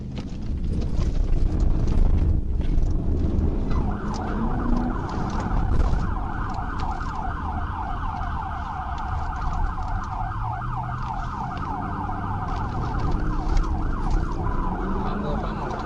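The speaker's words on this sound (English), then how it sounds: "The trooper activated his siren briefly in an effort to get the driver's attention" A police car siren wails steadily in a rapid yelp pattern for most of the stretch, under a roar of traffic and engine noise as a trooper pursues an accelerating driver.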